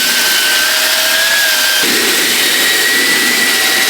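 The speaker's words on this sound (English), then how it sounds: "We're gonna be using our mechanical drill, and we have the stiff bristle brush attachment on the drill." An electric drill fitted with a stiff bristle brush attachment whirs with a steady high-pitched motor whine as it scrubs the soles of Jordan 4 Retro Thunder sneakers, loud and continuous with a slight pitch drop partway through.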